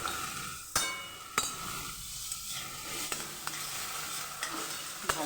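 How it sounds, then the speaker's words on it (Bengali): Carrots, onion and capsicum sizzle softly in a pan with garlic paste as they are stirred, with a few sharp utensil clinks against the pan over a steady, quiet fry. "গাজর, পেঁয়াজ ভেজে নিয়েছি, ক্যাপসিকাম দিয়ে দিচ্ছি। এবার আমি রসুন পেস্ট ঢেলে দিচ্ছি।"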